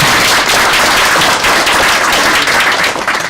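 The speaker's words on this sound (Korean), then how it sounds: "여러분 뜨거운 박수 부탁드립니다." A crowd at a small business association meeting with a political party claps warmly, steady dense applause, loud and close, for a few seconds with no voices over it.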